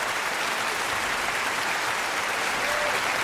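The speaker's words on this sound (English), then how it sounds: "Yo, is it non-Christian that we have fake hand claps?" A fake hand-clap sound effect played on a podcast, a dense, even burst of applause-like clapping that stays loud and steady from start to finish.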